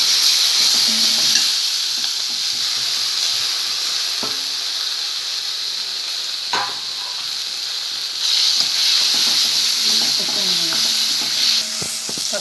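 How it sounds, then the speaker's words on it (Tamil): Steady sizzling of chopped tomatoes sautéing in a hot pan, with a few soft clinks of a utensil stirring now and then. "தக்காளி நல்லா வதங்கட்டும்."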